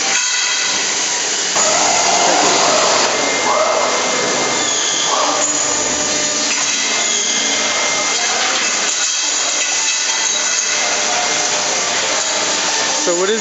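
A fence-section assembly machine that drives 45 screws per section, running as a steady, loud mechanical whir with buzzing tones and intermittent higher whines, continuous throughout with no talk.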